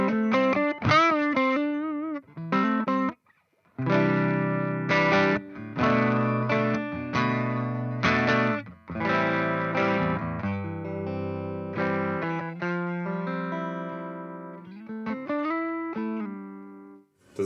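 An electric guitar through a REVV D20 amp with a Two Notes Torpedo cabinet simulation plays distorted, sustained chords and single-note runs with short pauses, close and loud, with no talking.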